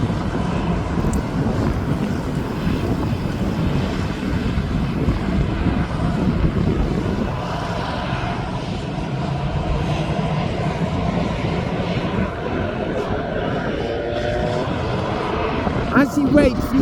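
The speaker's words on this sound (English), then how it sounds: "Now I'm going on to the Jet2.com livery aircraft." A Jet2.com airliner taxis at East Midlands Airport, its engines a low, steady rumble and whine at a distance, mixed with gusty wind buffeting the microphone throughout.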